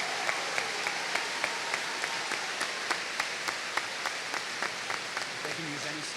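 Steady applause from a middle school audience at an eighth-grade promotion ceremony, sustained dense clapping with a few distinct louder claps, fairly near, continuing for several seconds with faint voices underneath.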